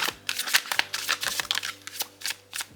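Tarot cards shuffled close up, a quick run of sharp papery riffling bursts with short gaps between them, with no voices.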